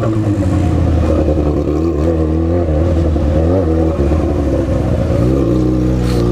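A Honda CB650 motorcycle engine revs loudly and steadily, its pitch rising and falling as it accelerates, close by and continuous throughout.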